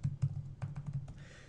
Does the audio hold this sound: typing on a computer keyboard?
yes